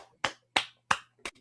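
Four crisp finger snaps ring out in an even, unhurried rhythm, close and clear, given as applause with no talking over them.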